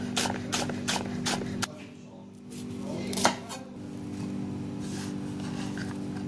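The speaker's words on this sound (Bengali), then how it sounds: "এভাবে কুচি করে কেটে নিব, একটু বড় করে কাটবো" A knife chopping vegetables for a prawn curry, quick rhythmic taps on a board at first, then a lull and a few scattered knocks, close by over a steady hum.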